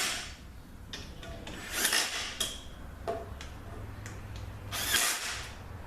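Power tool driving bellhousing bolts on a 722.6 transmission, a series of short whirring bursts with clicks and rattles between them, close and moderately loud.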